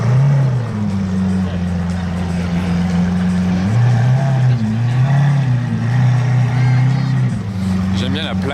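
Heavy, deep engine note from a red Ferrari F40 LM, a steady low rumble with shifting pitch that runs throughout, with people talking over it.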